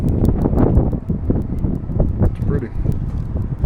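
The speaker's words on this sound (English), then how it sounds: "Woo, the wind." Wind gusts over a microphone on a freeway road trip, a loud, close, continuous rumble and buffeting. A person speaks briefly over it.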